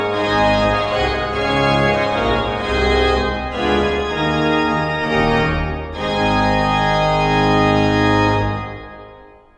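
Pipe organ plays a Böhm-style ritornello ending with double pedal, full sustained chords swelling in broad phrases, loud and rich before fading into the room.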